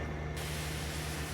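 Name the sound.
power washer spraying equipment, from video game Farming Simulator 25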